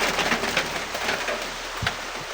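Heavy rain falling steadily as a dense hiss, with one brief low thump near the end and no talk.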